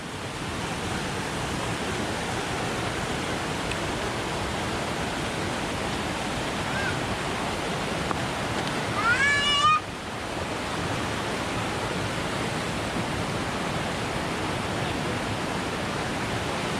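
Tad Kha waterfall in Xiengkhouang, Laos, pours out a steady, dense roar of rushing water that fills the whole clip, with a brief high chirp rising over it near the middle.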